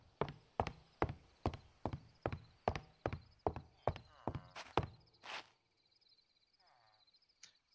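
A Nether horse in Minecraft walks with about a dozen evenly spaced hollow clip-clop hoofsteps, close and clear, before stopping and leaving quiet game ambience.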